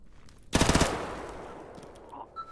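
A bandit's gun fires one sharp, loud automatic burst of about half a dozen quick shots in STALKER GAMMA, then a ringing tail fades into quiet game ambience.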